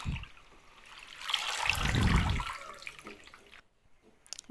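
Water sloshes and splashes as something is washed by hand, rising to a louder swirl midway, then fading to near silence.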